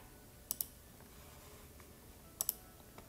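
Two pairs of crisp computer mouse clicks, one pair early and another near the end, quiet and close with a faint room hiss between and no talking.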